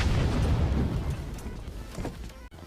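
Grenade blast in PUBG Mobile, a loud low boom at the start that rumbles and decays over a couple of seconds, with a brief dropout near the end.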